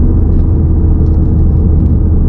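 Loud, steady engine rumble and road noise from inside a car on a driving-exam route in Aubagne, a continuous low drone with no talking.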